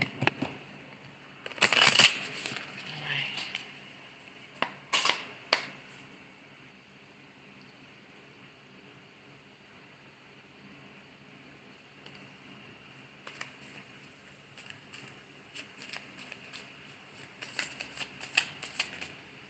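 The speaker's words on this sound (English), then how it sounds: "I'm shuffling the cards" Intermittent soft riffling and card snaps as a tarot deck is shuffled close by, in scattered short bursts with quieter stretches between.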